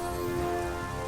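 A rain spell in the video game Caves of Lore, a brief steady hiss of synthetic rainfall layered with sustained tonal hum, even and constant throughout.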